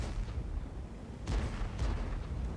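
Tank cannon shots in a tank video game: two or three heavy blasts a moment apart over a steady engine rumble, set at a middling distance.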